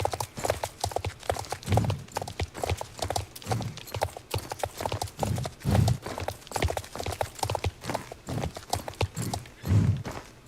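A horse canters in Star Stable with a steady, rhythmic clip-clop of hooves repeating through the whole stretch, with no voices.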